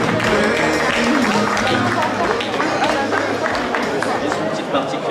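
A crowd at a gastronomy fair applauds Enzo and Julien with dense, continuous clapping and chatter, while a voice speaks over a loudspeaker throughout.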